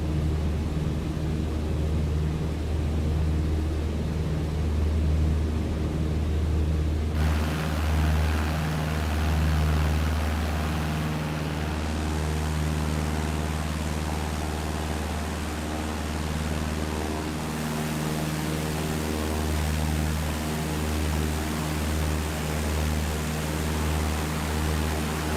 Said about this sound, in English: I love this tiny little airplane